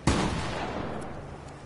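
A suppressed gun fires in a shooter video game, giving one sharp, close shot. A rumbling tail fades out over a second or so.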